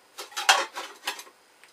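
Light metal pans from a small camping cook set clink and rattle against each other a few times in quick succession, close and fairly quiet, then fall silent.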